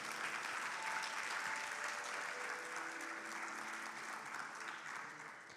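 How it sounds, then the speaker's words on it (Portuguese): An audience in a church applauds in a continuous, even wash of clapping that stays quiet and distant and fades slightly at the end. "Aplauda o Senhor"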